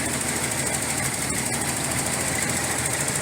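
A Nissan 280ZX engine idles steadily after a rust flush, a continuous rough mechanical drone with a knocking, vibrating texture, close up and unbroken throughout.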